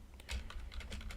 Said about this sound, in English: I'm just typing through.